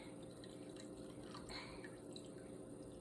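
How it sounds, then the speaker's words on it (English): Whey liquid pours off homemade mozzarella curds in a continuous, soft splashing stream, close and steady for a few seconds without talk. "We're gonna dump the rest of this liquid off here."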